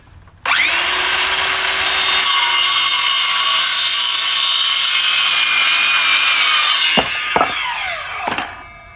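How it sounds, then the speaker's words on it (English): A power saw cuts wooden legs to a length of 32 inches. It rises into a loud, steady whine that holds for about six seconds, then winds down with a few brief clunks and rattles. "So we just need to cut a pair of legs 32 inches."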